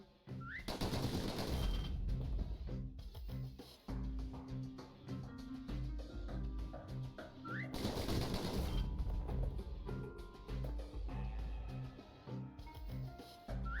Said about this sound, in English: Those pistols can spit out rounds just as quick as you could pull the trigger